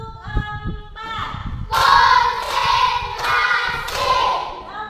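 Children clap together in a classroom in short rhythmic bursts, three or four loud clusters of hand claps following quieter voices.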